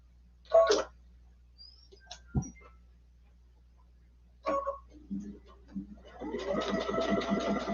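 Sewing machine stitching a quilt block and bringing up the bobbin thread: a few scattered mechanical clicks and taps, then a steady, close whirring run of stitches at the end.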